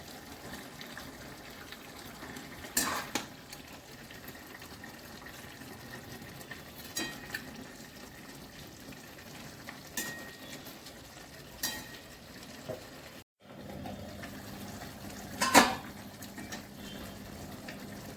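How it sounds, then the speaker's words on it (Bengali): Fish curry simmering in a pot, a soft, low bubbling that carries on throughout, broken by a few sharper knocks and clatters of utensils and a brief dropout before the bubbling resumes. "ঝোল ফুটছে, অল্প সেদ্ধ হয়েছে"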